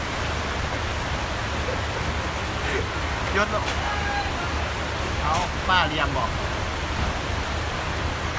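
Steady rain falls in a constant, dense hiss that fills the whole stretch, with someone speaking Thai over it.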